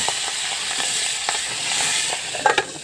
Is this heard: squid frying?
yes